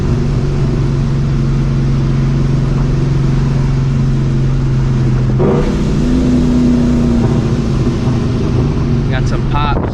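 A New Edge Ford Mustang GT V8 with long-tube headers, running rich, rumbles deep and loud from inside the car, a steady drone that climbs in pitch as it revs, with a sharp shift change midway.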